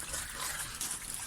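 Water steadily trickling and gushing through a homemade natural water filter, a continuous close hiss and splash with no voices.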